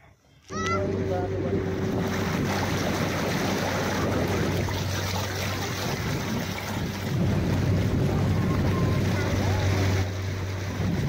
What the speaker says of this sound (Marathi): इथून बोटिंग स्टार्ट होते.